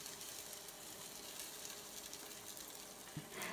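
Zucchini, egg and cheese batter frying in hot vegetable oil in a pan, a steady dense sizzle with crackle running throughout, near and fairly quiet, with one brief knock near the end.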